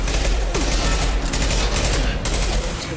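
A concussive shot fires in Mass Effect Legendary Edition amid a dense firefight. Loud, close bursts of rapid gunfire pound continuously for about three seconds, with a few sharp breaks.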